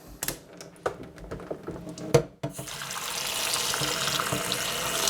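Tap water runs into a sink for washing angel sweet cherry tomatoes, starting after a few clattering knocks and handling sounds and then flowing as a steady splashing stream.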